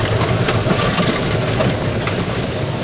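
Polaris Ranger EV electric utility vehicle on all-wheel drive, a continuous loud rumbling drive noise with rattling and wind, steady and close throughout.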